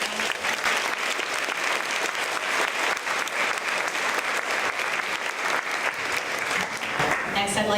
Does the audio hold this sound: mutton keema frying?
no